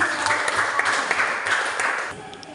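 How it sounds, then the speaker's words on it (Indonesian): A classroom group claps together after a physics lesson on wavelength and amplitude, giving a brisk burst of applause with audible individual claps that stops abruptly near the end, loud and close, with no voices. "kita berikan aplaus dulu"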